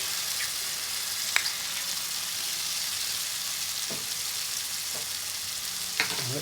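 Onions with ginger garlic paste fry in a pan for a chickpea and spinach curry, a steady close sizzle broken by a few light spoon taps and stirs.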